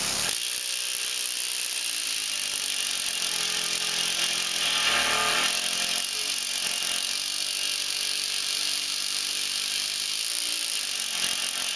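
A planishing hammer runs steadily at a fast 4,500 blows a minute with a 1 1/8 inch stroke. It sounds as a loud, continuous machine buzz that holds at one level for the whole stretch, with no talk over it.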